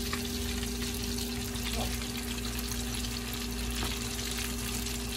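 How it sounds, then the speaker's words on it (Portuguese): Breaded tilapia cubes frying in hot oil give a continuous soft sizzle and crackle at low volume, with a steady electrical hum underneath. "Aqui já estou fritando."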